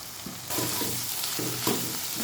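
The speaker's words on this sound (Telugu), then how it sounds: "ఉప్పు కారం వేసుకొని కలుపుకోవాలి మంచిగా." Salt and chili powder stirred into softened tomatoes in a hot pan, a spoon scraping in a steady rhythm over constant sizzling, close and fairly loud.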